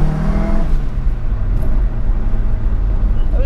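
A Mitsubishi Evo accelerates with a loud, close engine note that rises briefly at the start, then settles into a dense, steady roar of engine and road noise.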